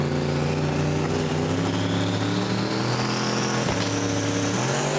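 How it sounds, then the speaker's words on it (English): Drag racing cars scream down the track at Roadkill Nights Powered by Dodge, a loud, steady, sustained engine roar with rising pitch through the run and a brief sharp crack near the end, without talk. "This is a drag race, David."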